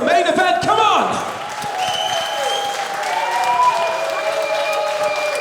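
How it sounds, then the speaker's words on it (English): A crowd applauds both fighters after the main event at a Phoenix FN27 fight night, steady clapping and cheering running throughout under a loud announcer-style voice and tonal sounds. "Ladies and gentlemen, round of applause for both fighters of the main event."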